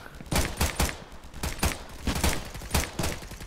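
Rapid gunfire in the VR shooter Contractors VR, with repeated sharp, loud shots in short bursts and a steady rhythm that rings out close by, with no talking.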